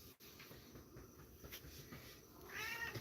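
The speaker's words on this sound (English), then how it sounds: "You just meowed like all hell." A pet cat gives a short, fairly loud meow near the end, after a stretch of quiet room noise with no one speaking.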